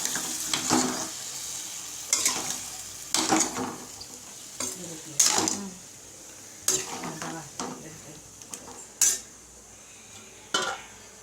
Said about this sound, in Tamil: இந்த கத்திரிக்காயை அப்படியே அந்த எண்ணெயில் போட்டு வதக்க வேண்டியது. இதை போட்டு எல்லாத்தையும் போட்டு அப்படியே கிளறிட வேண்டியது.